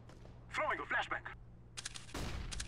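Gunfire in CS:GO comes as a few sharp, close shots near the end, after a stretch of quiet in-game sound with a voice talking briefly.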